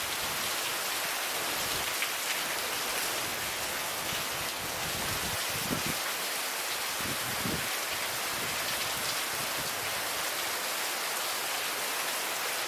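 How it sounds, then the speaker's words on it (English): Heavy rain pours steadily onto a hard roof, a dense, constant hiss with occasional louder patters, no voices. "and the rain pours down."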